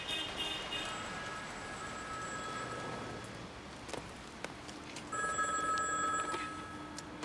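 Telephone bell ringing in bursts, with two distinct ring sequences separated by a quieter gap; moderately loud over a steady background hiss.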